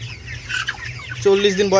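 Eight 40-day-old broiler poultry chickens on a small farm cluck close by, with scattered short calls giving way to a louder, sustained clucking cry near the end.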